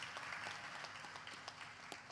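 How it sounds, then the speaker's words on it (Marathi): Audience clapping for the lighting and sound crew at a CARE NGO Abhangwari stage programme, a steady wash of applause at moderate volume throughout, with no voices over it. "सगळ्यांसाठी एकदा टाळ्या मात्र जरूर होऊन जाऊ देत."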